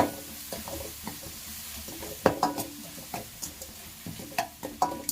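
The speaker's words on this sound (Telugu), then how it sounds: "పచ్చిమిరకాయలు ఉప్పు పేస్ట్ వేసుకోవాలి వేసుకొని మనము అంతా ఇలా ఫ్రై చేసుకోవాలి" Green chilli and salt paste fries in a pan for lemon chitranam, a soft steady sizzle broken by irregular scraping stirs and occasional louder spoon knocks, close and without talk.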